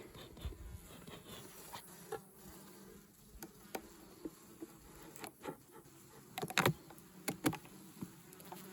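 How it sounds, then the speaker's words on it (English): Honeybees clustered in a winter hive give a faint, low buzzing hum, with scattered close ticks and taps from the wooden boxes and no talk. "So a lot of the bees are here in the front of this bottom box."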